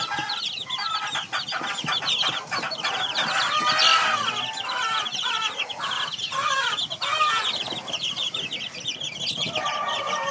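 Spangled chickens cluck continuously and densely throughout, a busy flock close by with overlapping calls and no talking.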